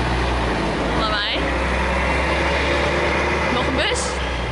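A bus engine rumbles steadily nearby, a low continuous drone with brief higher whines now and then.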